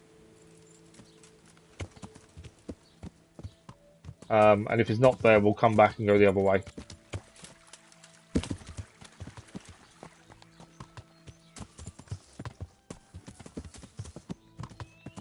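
Horse hooves in Kingdom Come: Deliverance, a short burst of loud clip-clopping gallop near the listener, followed by sparse clicks while someone talks.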